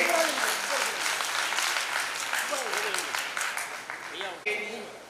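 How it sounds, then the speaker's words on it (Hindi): At an award distribution ceremony for Balram Jayanti, the audience claps for children, a loud clapping burst that gradually thins while a voice speaks over it. "आप जोरदार तालियां बजाइए इनके लिए।"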